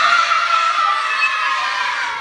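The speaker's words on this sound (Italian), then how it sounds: "maschi prima di tirare fanno l'urlo di battaglia" A group of children shouts a battle cry together just before throwing, a loud, sustained, high-pitched collective yell lasting a couple of seconds.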